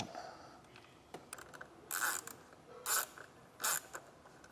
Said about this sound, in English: And then we'll take a 10 millimeter and tighten that back down.